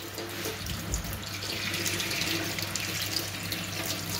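Lukewarm tap water runs steadily into a kitchen sink to briefly cool cooked pasta for cacio e pepe, a continuous close hiss and splash that stays even throughout.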